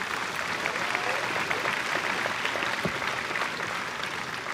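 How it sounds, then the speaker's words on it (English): A big graduation audience at Manatee Technical College gives dense, sustained applause for the graduating class, steady and loud throughout with no talk over it. "Let's give them a round of applause"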